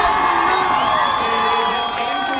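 A high school homecoming football crowd at White Swan roars after a touchdown, with sustained cheering, whoops and shouts steady and loud for the whole stretch.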